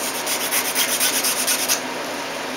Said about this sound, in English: I'm going to use my trusty file set, and I'm going to not over file these, but I'm going to file these slightly.